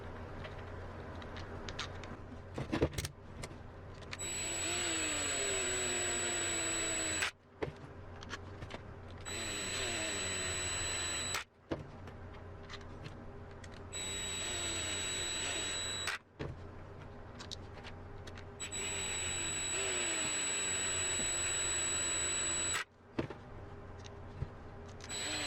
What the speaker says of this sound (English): now we're ready to screw the housing back on